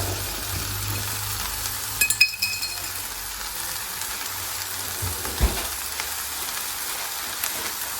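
Broccoli, cauliflower, red pepper, mushrooms and onions frying in a pan, a steady soft crackling sizzle with a few light clicks of stirring, heard alone.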